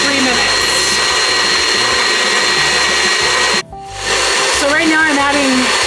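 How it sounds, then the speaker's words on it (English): Electric mixer whipping chocolate ganache into frosting, giving a loud steady motorized whir that briefly cuts out and restarts, with a voice speaking over it near the end. "I'm going to turn this into frosting now by whipping it into shape"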